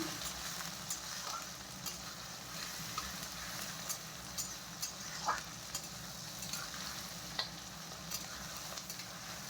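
Onion and tomato fry in hot oil in a pan for a home-style desi chicken curry, a soft continuous sizzle with occasional stirring scrapes and clinks, fairly quiet and steady.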